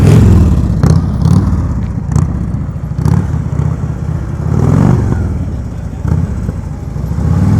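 A motorcycle creeps along at low speed during a riding-skills practice session, its engine rising and falling with gentle throttle blips and a few sharp clatters, fairly close by.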